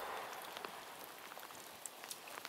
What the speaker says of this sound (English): We're out in the rain right now, and you can see it.